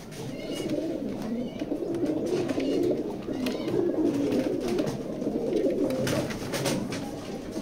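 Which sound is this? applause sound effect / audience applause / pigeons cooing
pigeons cooing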